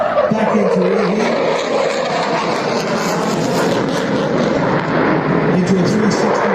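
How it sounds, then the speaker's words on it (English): A fast jet in reheat roars past at an air show in Ayr, Scotland, a loud, continuous, broadband afterburner rumble with a slowly shifting pitch that persists throughout. "Pulling the aircraft round, back into reheat"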